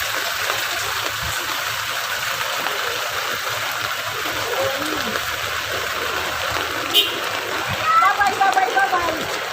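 Heavy outdoor rain pours down over someone bathing in it. A steady, dense wash of falling water continues throughout, with a few louder splashes near the end.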